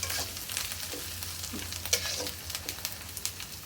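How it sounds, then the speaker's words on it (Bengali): Onion paste fries with spices in a pan for a catla fish curry, a steady close sizzle with intermittent stirring scrapes and small pops, no speech. "এখন আমরা পেঁয়াজ বাটাটা দিয়ে পেঁয়াজ বাটাটা সুন্দর করে ভেজে নেবো"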